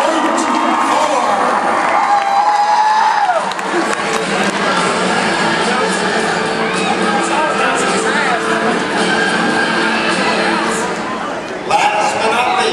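A large arena crowd cheers, whoops and shouts for a monster truck called the General at an indoor coliseum show, loud and continuous, with an announcer speaking over the roar.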